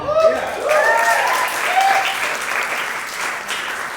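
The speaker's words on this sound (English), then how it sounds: "So another round of applause for that." Audience applause for local artists at a music listening lounge event at Folklore in Napa, a steady wash of clapping with a few cheers and whoops over the first seconds, sustained throughout at moderate loudness.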